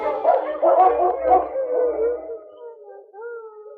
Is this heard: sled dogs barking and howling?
yes